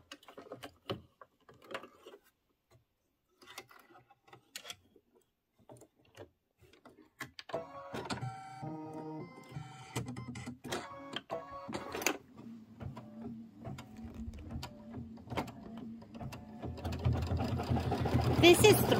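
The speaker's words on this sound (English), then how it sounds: "stitch the house satin outline. That's going to be in burnt orange" An embroidery machine stitches a satin outline of a house in burnt orange thread, starting with sparse clicks and building into a dense, steady mechanical whir by the end, with a person talking over it.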